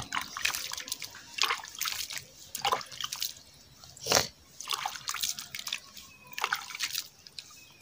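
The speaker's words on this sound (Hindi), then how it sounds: "तो मैं अभी पानी से धो के दिखाऊंगा" Water splashed and rubbed over skin during washing, a close run of uneven drips, splashes and wet rubbing with one louder splash near the middle, and no speech.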